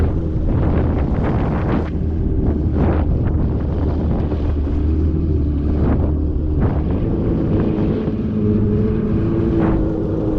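Strong wind in the Swedish archipelago buffets the microphone in rough, continuous gusts, with a low motor-like rumble underneath and no speech.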